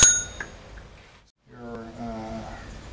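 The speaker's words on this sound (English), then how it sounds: "by law required to have such a bell on your bike" A newly fitted bicycle bell rings in one bright ding at the start, its tone fading out before a short silence and a low hum of background noise.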